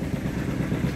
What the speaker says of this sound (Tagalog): Ayan, sa Kuya Bait na makina pinapaandar, pinapainit.